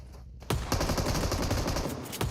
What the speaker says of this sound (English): Max with the M249 around the side. A ton of bullets to play around with, but none of those bullets hit.